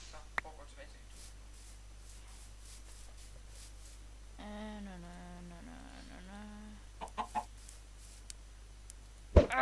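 Chickens in the Minecraft video game cluck in a quick series of short, clear calls partway through, set against steady game background noise with a few sharp clicks and bumps.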